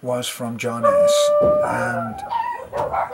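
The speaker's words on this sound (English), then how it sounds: "somebody's walking outside and the dogs are going crazy" Several dogs bark, yip and howl excitedly at someone walking outside, close and fairly loud, mixed in with someone talking.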